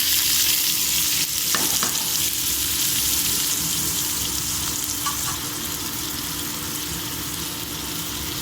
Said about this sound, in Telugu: గోల్డెన్ బ్రౌన్ వచ్చే వరకు ఫ్రై చేసుకున్నాం ఆనియన్.